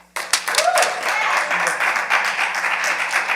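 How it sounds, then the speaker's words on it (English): Sustained applause and clapping from a youth group gathering, a dense continuous burst of many hands starting abruptly and holding steady at close range. "Clap her up."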